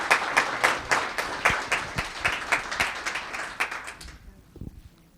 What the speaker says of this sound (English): How about a big round of applause for Bob and Sue Buxton